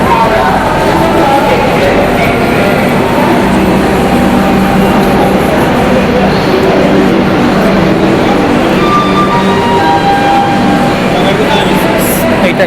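A train stands at a busy station with a constant loud rumble and engine drone throughout, and crowd noise and voices blend into the din.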